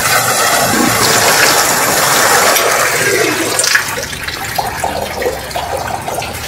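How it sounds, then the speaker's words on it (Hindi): An electric monoblock household water pump draws water from about 20 feet away, a steady rushing, gurgling water flow that stays loud and continuous, then turns more uneven and splashy toward the end. "हम इस मोटर को बंद करके दोबारा से एक दफा फिर से पानी खींच के देखते हैं"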